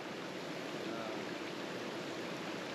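A waterfall in Costa Rica, at a swimming spot at its base, gives a steady, even roar of falling water that fills the whole scene without pause.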